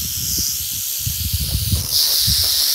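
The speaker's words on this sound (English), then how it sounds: "Southern Pacific rattlesnake out on the crawl. Right there, you hear it." A Southern Pacific rattlesnake on the crawl outdoors gives a continuous dry, hissing buzz of rattling, close and steady throughout, with soft rustling underneath and no talk.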